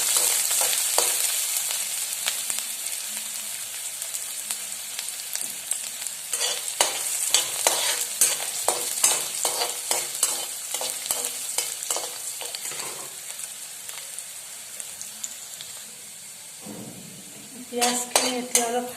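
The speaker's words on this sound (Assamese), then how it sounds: "পিয়াজ অলপমান ভাজি লম" Onions frying in oil in a kadai for veg Maggi, a close, steady hiss and sizzle with scraping spatula stirs and metallic clinks, loudest in bursts and briefly dipping before picking up again.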